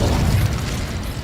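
Fire spell cast in Hogwarts Legacy, a short low whooshing burst that rumbles loudly at first and then fades within about a second.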